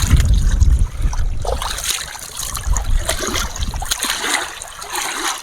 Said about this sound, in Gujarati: ભાઈ પાણીથી મોઢું પણ ધોઈ નાખીએ